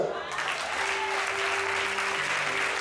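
A church congregation applauding together, a dense continuous wash of clapping with sustained tones ringing beneath it throughout.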